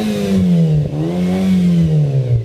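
A turbocharged Nissan Pulsar engine revs up close and loud, its pitch rising and falling through a couple of throttle blips in quick succession.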